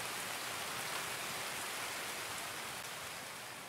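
Steady rain in the video game Escape From Tarkov hissing continuously, a dense even patter with no distinct drops, moderately quiet and slowly fading slightly toward the end.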